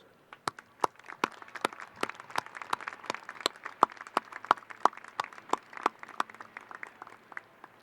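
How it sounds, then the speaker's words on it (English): Commencement audience applauding faculty at San Francisco State University: a bed of crowd clapping with prominent sharp individual claps in quick, slightly uneven succession, loud and close throughout. "Please join me in a round of applause for these dedicated faculty members"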